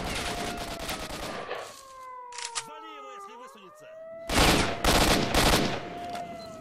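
Bursts of gunfire from the PC shooter S.T.A.L.K.E.R.: Shadow of Chernobyl, with a dense volley at the start and another near the end, and a sweeping siren-like tone between them.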